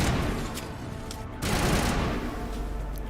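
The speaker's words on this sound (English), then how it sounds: "Probably a machine gun or something." Sustained automatic machine gun fire in the sci-fi game Mass Effect Legendary Edition, a dense continuous rattling burst that swells louder around the middle and runs throughout.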